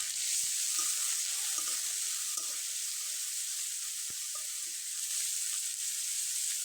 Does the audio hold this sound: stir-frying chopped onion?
yes